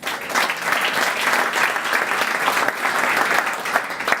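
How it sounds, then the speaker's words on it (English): Sustained crowd applause at a civic event following a mayor's speech, a dense steady wash of many hands clapping that stays loud and even throughout without a break. "Give another round of applause"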